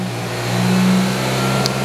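A GM 1.4-liter GDI engine mounted on a training bench revs briefly, rising from idle to a loud, steady mid-pitched drone and then easing back, heard close up without talk.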